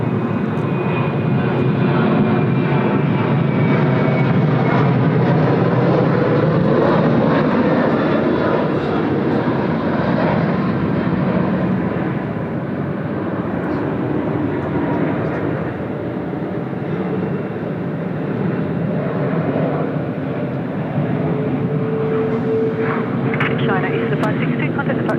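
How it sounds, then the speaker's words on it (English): A China Eastern airliner rolls for takeoff on runway 34 left at Sydney Airport, its engines a loud, steady, broad roar sustained throughout, with a voice talking over it. "Here we go, China Eastern now rolling runway 34 left."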